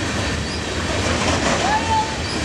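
A freight train passes in Joliet with a steady loud rumble of rolling cars, rail noise and a brief high wheel squeal near the end, close by and continuous.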